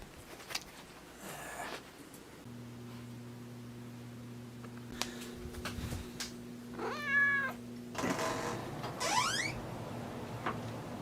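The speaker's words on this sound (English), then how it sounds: "He's got this black cat" A black cat meows several times at close range outdoors in a warm setting, with long pitched meows around the middle and end over a low steady hum.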